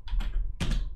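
Keys tapped on a computer keyboard while entering a command in a Windows 10 prompt, a quick burst of clicks, a brief pause, then another burst, close and clear with no talking.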